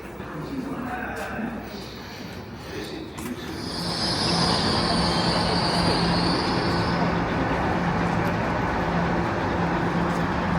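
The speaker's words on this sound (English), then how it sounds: "Arriving into Didcot Parkway railway station" A train rolls into Didcot Parkway railway station, its rumble growing louder and steady, with a high metallic squeal of wheels rising midway and fading out.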